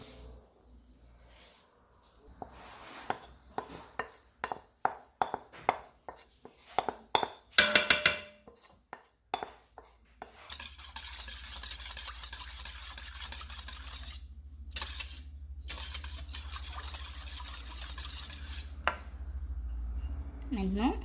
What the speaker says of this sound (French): Je vais maintenant verser ça dans le lait.